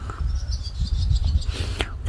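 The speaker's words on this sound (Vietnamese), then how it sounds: "về đây nghe tiếng chim hót nhiều ghê á" Birds chirp and tweet faintly in the background of a Vietnamese vegetable garden over a low rumbling outdoor noise, with a brief sharper call near the end.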